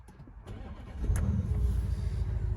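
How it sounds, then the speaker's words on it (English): Audi SQ7 diesel V8 cranks briefly and catches, settling at once into a low, steady idle burble, fairly quiet and close, with no talking. "you can hear the nice sort of diesel burble going on"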